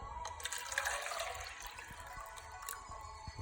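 Water pours steadily into a container, a close, moderately quiet liquid splash and trickle with small drips throughout.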